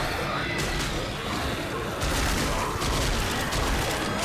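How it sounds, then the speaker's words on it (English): Rapid, dense gunfire fills a chaotic Left 4 Dead firefight, continuous and loud, with a burst of heavier shooting partway through. "Just keep shooting."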